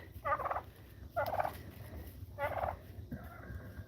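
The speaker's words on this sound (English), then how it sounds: "Here's 2 more turkey hens." Turkey hens on a farm gobble in three separate nearby bursts, each a rapid warbling run, with a quieter trailing call at the end over low barnyard rumble.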